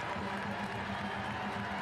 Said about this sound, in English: a number of players will take their well-earned applause